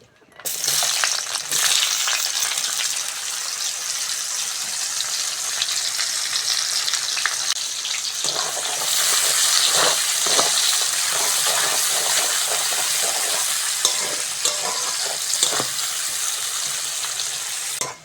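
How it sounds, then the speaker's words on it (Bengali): Chopped onions sizzle and crackle steadily in hot oil left from frying fish, a loud continuous fry with occasional stirring scrapes, in a village kitchen. "ওই তেলের মধ্যে পেঁয়াজ কুচোনো দিয়ে দেবো"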